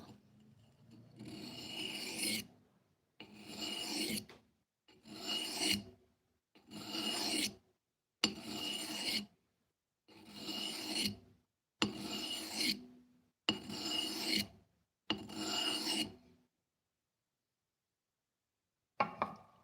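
A watch shell is wet sanded with sandpaper in ten rhythmic, gritty rubbing strokes, each about a second long, close and fairly loud, followed by a pause and one last short rub.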